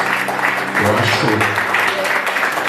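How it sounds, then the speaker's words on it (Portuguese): Church congregation clapping fills the room with dense, steady applause, mixed with voices and some singing or shouting underneath. "Aplaude o Senhor Jesus."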